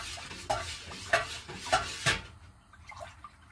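A utensil stirs a dark-coloured mixture in a pot, giving four separate clinking scrapes about half a second apart, with quieter scraping trailing after them. The sounds are close and moderate in level and are heard alone.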